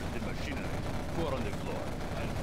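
Quad cannons fire in C&C Generals Zero Hour as a dense, rapid burst of repeated blasts, moderately loud under a busy battlefield din.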